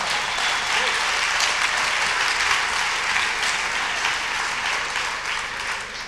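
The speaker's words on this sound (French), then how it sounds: "On peut les applaudir aussi." Sustained applause from a conference audience welcoming colleagues who travelled from La Réunion, a dense, steady wash of many hands clapping that holds for several seconds and tapers slightly at the end.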